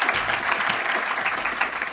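Steady applause from an audience at a Georgetown debate event, honoring a fellow moderator, dense and continuous throughout without pauses.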